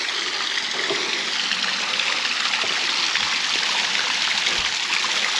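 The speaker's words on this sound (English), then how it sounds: "It's kind of surprising there's as much water coming out over here on these little channels" Water running through small channels of a forest stream in the Angelina Forest, a steady close trickling and burbling flow with no pauses.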